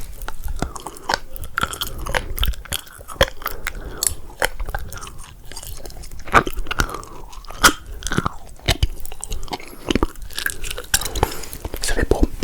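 Close, wet chewing and biting on a small plastic membrane designed as a baby teether, rapid crunchy, squishy bites repeating in an uneven rhythm throughout, with soft speech underneath.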